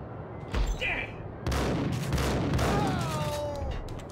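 Gunfire in the Max Payne video game, a dense fusillade of shots crackling steadily over several seconds, loud and close, mixed with game noise.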